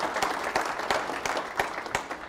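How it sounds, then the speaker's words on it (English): A civic audience at a village state-of-the-community address held in a hospital basement applauds in a light, scattered patter, with several sharp individual claps standing out at regular moments. "you can clap for Silver Cross"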